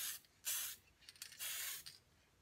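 Aerosol spray paint hisses in several bursts onto a radio-controlled car body being painted in a NASCAR Budweiser style, each burst loud and close with short pauses between, three main passes plus brief puffs.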